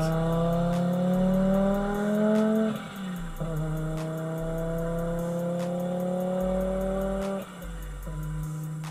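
An Audi S2 Avant's turbo engine pulls through long rising revs with two sharp shift dips, a steady loud drone heard up close with no voices.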